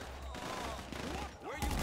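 Rapid gunfire in GTA 5 during a prison escape, a dense, continuous burst of overlapping shots that sounds somewhat muffled and distant.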